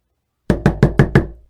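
Five quick knocks rap on a door as a radio drama sound effect, sharp and close in an evenly spaced burst after a moment of silence.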